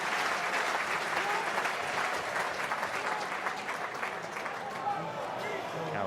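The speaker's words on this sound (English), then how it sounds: "who takes the applause." Rugby crowd at a Saints versus Exeter Chiefs match applauding as a player is substituted off, a steady wash of clapping across the stadium with commentary running over it.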